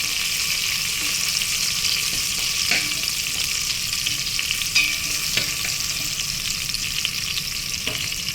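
Green chillies frying in a pan, a steady close sizzle with occasional stirring clinks, no talk.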